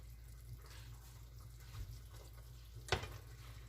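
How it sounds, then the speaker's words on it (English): A spoon stirs Puerto Rican sancocho stew in a pot, a soft, faint wet sloshing and scraping with one sharper clink of utensil against the pot near the end. "Let's stir and see what we got."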